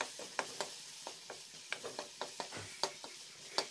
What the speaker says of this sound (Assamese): এতিয়া কেৰাহীটোত মই অকণমান তেল ব্যৱহাৰ কৰিছোঁ, অলপ পিঁয়াজ ব্যৱহাৰ কৰিছোঁ